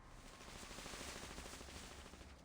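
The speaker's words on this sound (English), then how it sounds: "Gunfire rattles above them" Rapid, dense gunfire from the video game Reverse: 1999 rattles continuously at a steady level, a sustained burst of shots with no speech.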